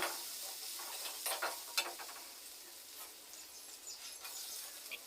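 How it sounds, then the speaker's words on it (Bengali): A cumin and coriander paste with a little turmeric frying in a pan, a faint hissing sizzle with a few light scrapes of stirring, no voices. "আর এটা ভালো করে ভেজে নিতে হবে।"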